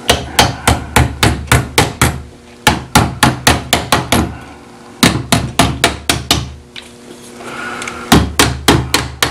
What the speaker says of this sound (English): what we're going to do is bend these tabs down